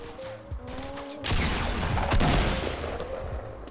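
Gunfire from the video game Fortnite Battle Royale crackles in a dense burst of rapid shots and impacts. Short scattered clicks come first, then loud sustained firing fills the rest.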